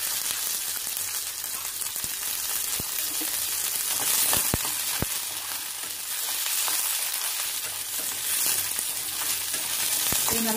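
Onions and garlic sautéing in oil in a pan for a country chicken curry, a steady close sizzle throughout with a few scattered taps and clinks from stirring.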